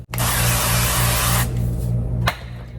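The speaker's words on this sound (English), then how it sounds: "Then we're going to spray our skillet again" A steady, loud hiss of cooking spray onto a skillet lasting about two seconds, then cutting off and followed by a brief second short burst.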